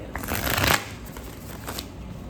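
Tarot cards are riffled and shuffled close by, a rustling burst swelling then fading, followed by softer flicks and rustles.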